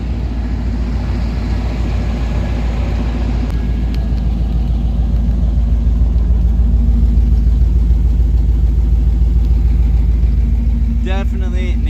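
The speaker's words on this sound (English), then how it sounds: "Let you hear this just chopped straight pipe exhaust." A 1996 Chevrolet Silverado K1500 pickup with chopped straight pipe exhaust idles close by, a steady, loud, low burbling rumble with an even pulse; a brief squeak or voice-like sound enters near the end.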